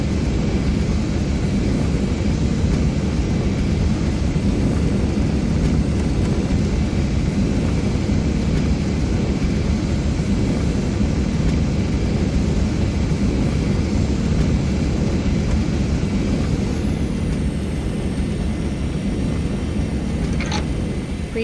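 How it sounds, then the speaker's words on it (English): An AJS-37 Viggen jet engine in the DCS flight simulator gives a loud, continuous, even roar with a high whine on top that holds steady and dips slightly near the end. "Turn off the thrust reverser by pushing the thrust reverser handle inwards. The thrust reverser flaps will open and the engine will operate as normal."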